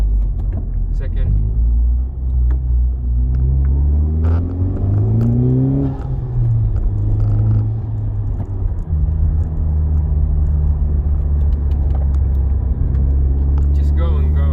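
A 2019 FK8 Honda Civic Type R pulls hard in the rain, its engine note climbing in pitch and then dropping sharply at a gear change before rising again, a loud, close rumble under ongoing talk from inside the car.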